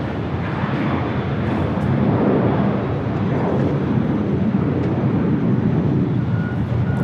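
A Boeing 787 Dreamliner at Los Angeles International Airport gives a steady, loud, broadband jet roar that holds without a break for several seconds, with no voices.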